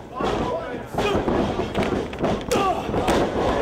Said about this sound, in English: That is a clothesline.